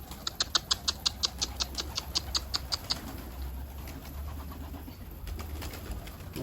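Mardin pigeons on a first flight beat their wings in a quick, even series of sharp claps for about three seconds, then the claps fade into steady outdoor background noise.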